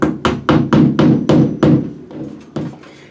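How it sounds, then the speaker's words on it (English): A hammer taps a metal molly anchor into a wall hole with about ten sharp, close strikes, the first seven in a quick even rhythm, then lighter, spaced taps. "Take our hammer and we just get the tip of the molly into the hole just like this and then tap it in."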